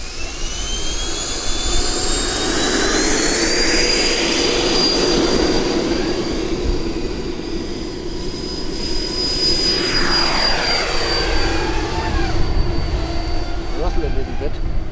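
Jet turbines of an RC Boeing 787-9 model airliner spool up for takeoff, a loud sustained roar with a rising whine that holds steady, then a second sweep of pitch near the end; voices talk faintly underneath.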